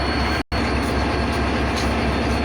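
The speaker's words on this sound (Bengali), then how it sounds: "দেখুন ইঞ্জিনটা চলে আসছে আর কি" Loud, continuous rumble of a railway locomotive approaching nearby at Ishwardi Railway Junction, steady and droning with a brief dropout near the start.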